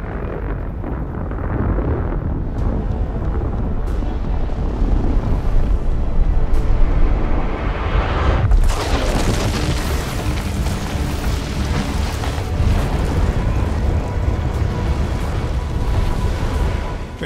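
Cinematic depiction of the planet Theia colliding with Earth, a sustained loud roaring rumble with deep booming bursts and a sharp crack partway through, continuing as dense noise.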